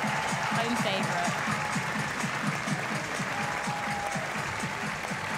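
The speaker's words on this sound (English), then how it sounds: "And a huge roar from the crowd." A big crowd roars and applauds for a home-favourite climber at a bouldering final of the Munich 2022 European Championships, a dense, steady wall of cheering and clapping that holds loud and unbroken throughout, with a commentator's voice faintly underneath.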